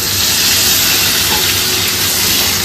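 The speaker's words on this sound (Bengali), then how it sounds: "টমেটোটা একটু ভাজা হোক" Tomatoes frying in hot oil along with a mustard and poppy seed paste give a steady, loud, broadband hiss and sizzle that runs unbroken and close, with no talking over it.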